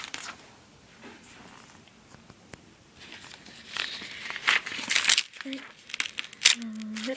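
Paper being ripped by hand while making seedling pots: soft crinkling at first, then a cluster of louder, sharp tearing rips toward the end, with brief voiced sounds in between.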